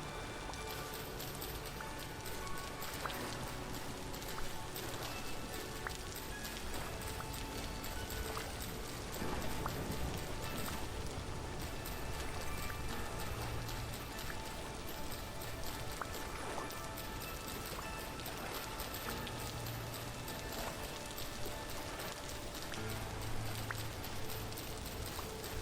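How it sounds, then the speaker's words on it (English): Steady rain falls through an outdoor scene in the video game Vintage Story, a dense constant hiss with occasional soft thumps and clip-clop-like taps, even and unbroken throughout. "Dude, this rain, man. I don't know when this rain is gonna stop."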